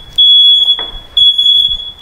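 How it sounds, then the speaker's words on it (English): A smoke alarm sounds with a loud, piercing electronic tone in two long blasts separated by a short break, close and dominant, with no talking. "The smoke alarm going off."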